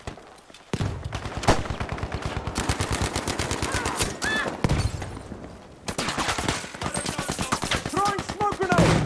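Rapid automatic gunfire in the Battlefield V shooter game, loud repeated bursts of shots with brief pauses between volleys and a few sharp metallic game effects.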